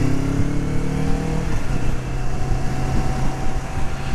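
A Kawasaki Vulcan S motorcycle cruises on an open road at around 5,000 rpm, its engine droning steadily and loudly with a slight dip in pitch partway through, under heavy wind rush.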